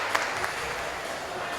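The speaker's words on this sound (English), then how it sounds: "There's a big cheer for Miho Nanoka on F4" A crowd at an IFSC bouldering World Cup semi-final in Toronto cheers and applauds for climber Miho Nanoka, a steady wash of distant clapping and voices with a couple of brief sharper peaks.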